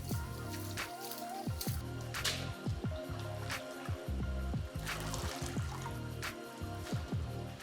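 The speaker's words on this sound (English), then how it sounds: "I mix well and take the grated potatoes out of the water." Wet squishing and trickling as grated potato strands are mixed by hand in a bowl of cold water, close-up soft sloshes and drips in an irregular rhythm with no talking.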